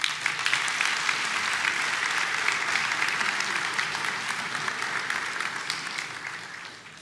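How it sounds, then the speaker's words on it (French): Sustained applause from the audience at a graduation ceremony, a dense even patter of many hands that carries on for about seven seconds and gradually fades toward the end. "Cela mérite applaudissements"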